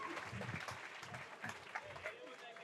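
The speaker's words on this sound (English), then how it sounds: "give a round of applause" A crowd at a fight night applauds after a three-round fight, a faint, fairly distant patter of clapping under a voice speaking over it.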